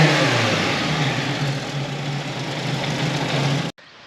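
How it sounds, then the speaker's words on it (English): A Mk1 VW Caddy engine fitted with twin Weber 45 carburettors idles steadily and smoothly up close, a low even throb with no talk, cutting off abruptly near the end. "Idling like it's fuel injected."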